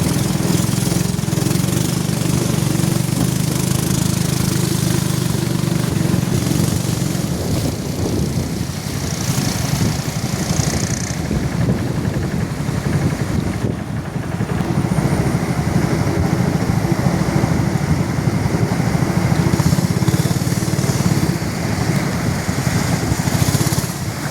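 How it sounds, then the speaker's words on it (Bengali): A motor boat engine runs steadily on a fast-flowing river among the hills of Bandarban, a continuous loud drone with broadband water and wind noise, shifting slightly in tone midway but never stopping. "সব শেষে যে আমাদের বোটটা ঠিকমতো আবার চলতে শুরু করেছে"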